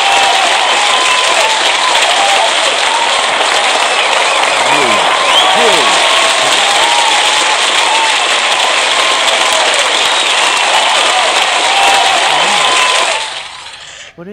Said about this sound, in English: Did you hear this? It was clapping.